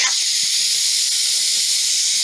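Continuous, fairly loud steady hiss of steam escaping from a boiling pumpkin, holding level without pause throughout.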